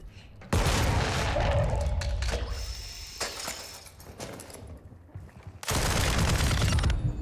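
Gunfire from a RAAL gun in a video game, in dense loud bursts with crashing, shattering impacts, a quieter stretch in the middle and a heavy burst near the end.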